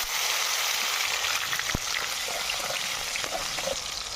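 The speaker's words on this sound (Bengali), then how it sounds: "এবার আমি মশলাগুলো এর মধ্যে তেলের মধ্যে দিয়ে দেব।" Spices dropped into hot oil in a pan, after potatoes were fried in it for a vegetarian cabbage dish, sizzle loudly and steadily with a dense, even crackle throughout; no talking.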